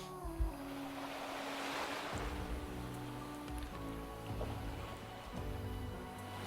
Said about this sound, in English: I could seemingly hear the sound of waves crashing against a rocky shore.